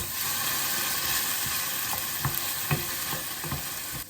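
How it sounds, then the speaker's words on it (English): Chopped tomatoes hit a hot frying pan for a creamy prawn rice, giving a steady close sizzle with a few soft stirring knocks and clatters near the end. "We will also add the tomatoes that I had previously chopped or grated."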